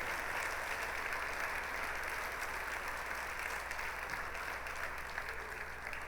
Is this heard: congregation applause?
yes